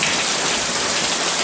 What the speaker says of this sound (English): if you're getting a little noisy in here with all that rain and everything, and thunder and everything